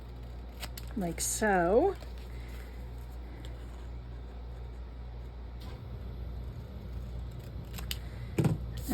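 Scissors snip through junk mail paper while trimming a pocket for a junk journal, a short burst of close, crisp cuts early on, with a person talking over a steady background hum.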